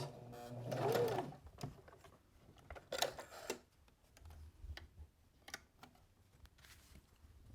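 A home sewing machine back stitches across the end of a seam on a fabric drawstring bag, giving a short burst of rapid mechanical stitching followed by scattered clicks and handling noises, fairly faint and close.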